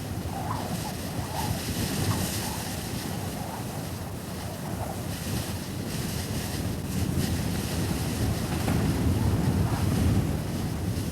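Strong wind blows steadily outdoors on a remote polar expedition, a loud continuous roar with buffeting gusts battering the microphone, swelling slightly stronger toward the end, with no voices.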